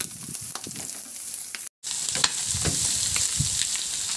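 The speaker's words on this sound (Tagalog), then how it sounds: "igisa ko na rin yung bawang. Maglagay na rin ako ng sibuyas." Garlic and onion sauté in a kawali before tomato and pork go in, a close, steady sizzle with occasional stirring clicks and a short dropout midway.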